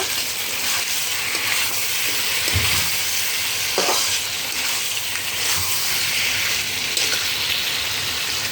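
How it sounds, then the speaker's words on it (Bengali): Chicken pieces sizzle in a pan and are stirred with spices, a continuous close frying hiss broken by a few scraping stirs, with no talking. "মিশিয়ে নিচ্ছি চিকেনটা মশলার সাথে মাংসটা এবার ভালোভাবে একটু কষিয়ে নেব"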